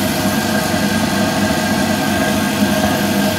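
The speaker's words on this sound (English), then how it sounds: "There's the compressor on, by the way, if you can hear it in the background. It's now pressurizing up again." An air compressor runs steadily as it builds pressure, a loud continuous mechanical hum and drone with no breaks, heard alone in a workshop where a DIY waste oil burner is being tested.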